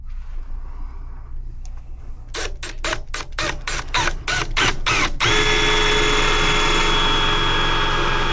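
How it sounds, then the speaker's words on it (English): A big power drill bores into a steel door while a slide lock is installed, first in a run of rapid stuttering bursts, then as one loud, steady, grinding whine close by. "I may have to bring my big drill in."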